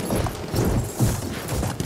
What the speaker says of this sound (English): Oh, the horse!